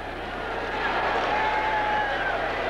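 A Miami Dolphins home crowd at a far-from-sold-out football stadium roars in a steady, broad wash of cheering, with no break or single voice standing out.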